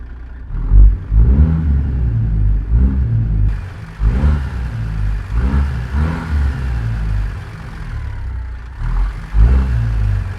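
A C16 truck engine from a modded truck-driving game cranks over and settles into a loud, close, low rumble, then surges repeatedly through a series of rhythmic revs with no talking over it.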